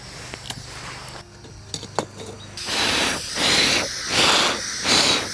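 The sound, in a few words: camping gas stove burning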